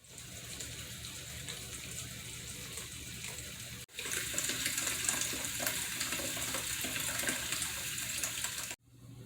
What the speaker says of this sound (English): Now I'm going to fill these babies up with some water.